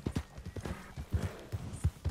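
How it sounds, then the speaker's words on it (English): Horse hooves galloping in the Red Dead Redemption II video game, a steady rapid clip-clop rhythm of hoofbeats at moderate distance, fairly quiet and continuous. "Did you see a crazy horse come by this way?"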